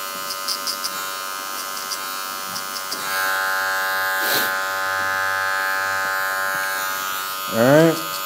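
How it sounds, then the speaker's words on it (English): An electric hair clipper buzzes steadily through a drop fade haircut, a close, constant hum with brief voice sounds near the end. "Same motion with the clipper."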